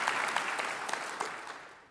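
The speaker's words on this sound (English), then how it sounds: "you can give them a round of applause" Applause from an audience at an awards banquet, a brief wash of clapping at moderate level that holds steady and then fades slightly, with no voices over it.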